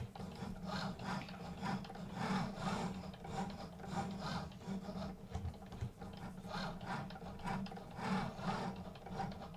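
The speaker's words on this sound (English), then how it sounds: "you just rub it over tag gently" Wax being rubbed gently back and forth over an embossed paper gift tag: quiet, continuous papery scratching in a rough repeating rhythm, close and faint, with no talking.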